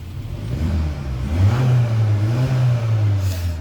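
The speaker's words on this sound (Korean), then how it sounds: "그냥 뭐 평범한 4기통 엔진의 사운드 같습니다" A Hyundai Sonata's 2.5-litre four-cylinder engine hums steadily at a low pitch, rising slightly in revs midway before settling, smooth and close with no exhaust rumble.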